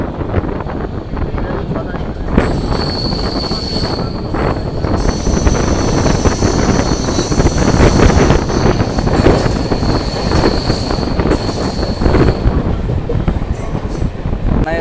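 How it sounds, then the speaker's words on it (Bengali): The 63509 Jhajha MEMU passenger train pulls out of Khana Junction station with a loud, continuous rumble of rolling wagons, heavy wind buffeting and a thin high wheel squeal running over it. "আমার ট্রেন ছেড়ে দিল খানা জংশন রেলওয়ে স্টেশন থেকে"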